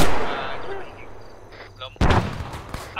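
Gunfire in the video game Arma 3 during a zombie mission, a sharp loud burst at the midpoint after a stretch of quieter ambience, with a couple of further shots and faint talk in the background.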